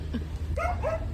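A dog gives two short, close barks, the second a quick follow-up, over a constant low rumbling background.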